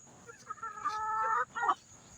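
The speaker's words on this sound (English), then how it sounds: "I got all these birds around me." Several chickens cluck and call close by in a backyard flock in summer, a run of tonal clucks building to a louder burst before fading, with no talking over them.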